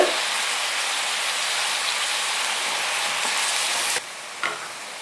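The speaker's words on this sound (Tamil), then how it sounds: "வெங்காயம் நல்லா குக் ஆகிடுச்சு. இப்போ வந்து தக்காளி சேர்த்துக்கிறேன். அதோட கல்லுப்பு" Onions frying in a pan as tomatoes and rock salt go in, giving a loud, steady broadband sizzle that runs on evenly before dropping off sharply near the end, with no voices.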